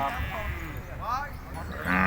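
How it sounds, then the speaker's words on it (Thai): Water buffalo at a busy outdoor livestock market in Nong Bua Lamphu, Thailand, low lowing calls rising amid crowd noise and background chatter. "นี่เด้อครับเด้อตัวนี้ควายครับ"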